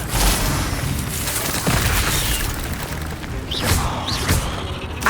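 Incendio fire spell cast in Hogwarts Legacy, a dense whooshing burst of flame with scattered thumps and short rising magical tones, loud and continuous over several seconds.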